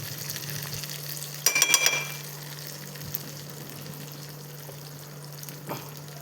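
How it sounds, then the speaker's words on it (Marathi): Fish frying in a pan gives a steady low sizzle, with a brief clatter of movement early on and a faint knock near the end. "तोवर इकडे आपले मासे पण तळून तयार आहेत बघा. त्याला चांगलं 2-3 मिनिटं असं फ्राय करून घेतलं होतं."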